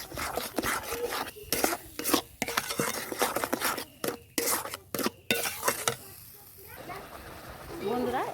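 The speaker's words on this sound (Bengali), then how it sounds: "আমি তাল আর নারকেল কোড়া চিনি একসাথে একটু জাল দিয়ে নেবো" A spoon scrapes and stirs palm pulp with grated coconut and sugar in a pan over heat, in repeated rhythmic rasping strokes broken by short pauses, with a faint voice near the end.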